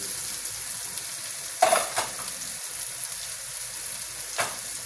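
Chopped tomatoes frying in a spiced masala base with star anise for chickpea degi pulao, a steady soft sizzle with a couple of sharp stirring clatters of a spoon against the pot.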